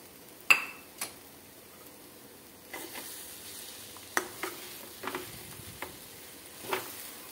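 Boiled moong dal goes into a hot pan and is stirred, a quiet sizzle broken by scattered clinks and scrapes of a spoon against the pan, close and sparse.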